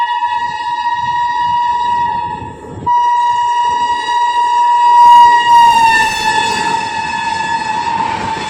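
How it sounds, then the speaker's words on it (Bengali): A train horn sounds at platform 4 of Sainthia railway station, a loud sustained tonal blast that stops briefly, resumes and swells, over the low rumble of the platform. No one speaks. "তো ট্রেনে উঠে পড়েছি।"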